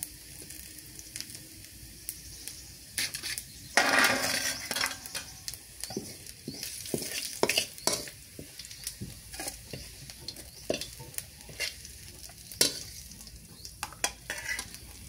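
Cumin seeds and chopped onion frying in a pan for a potato curry, a steady crackling sizzle broken by repeated stirring scrapes and the occasional clink of a utensil against the pan, close and fairly loud with no talking.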